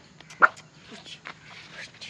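A dog at home gives one short sharp bark near the start, followed by a few quieter yips and whimpers amid soft movement and a voice.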